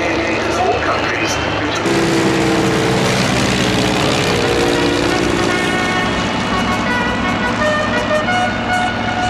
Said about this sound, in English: Craft is now pulling up for their final flight pass